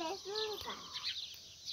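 A hen gives a short rising cluck close by at the start of a quiet moment in a home yard, followed by softer rustling and faint voices.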